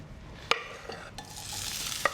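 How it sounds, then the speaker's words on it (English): Lamb sizzles steadily in a hot pan with sesame oil, a soft broadband hiss punctuated by a few sharp clinks of a utensil against the pan. "So you can hear it's sizzling,"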